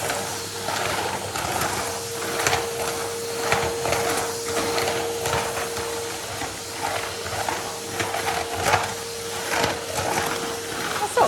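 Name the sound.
Henry Extra Large vacuum cleaner running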